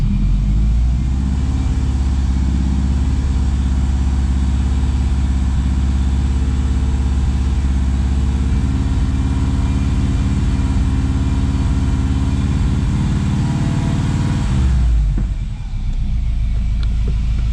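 A Subaru WRX engine, under diagnosis for a suspect mass airflow sensor, held at a steady 2,500 RPM: a loud continuous low rumble with a constant drone, dropping slightly near the end.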